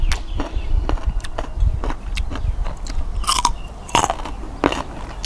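Crisp marian plum fruit bitten and chewed up close, a run of loud crunchy bites and wet chewing crackles with no talking.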